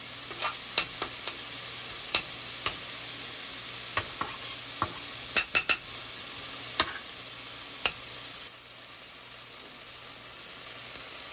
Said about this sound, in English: we're gonna saute onions first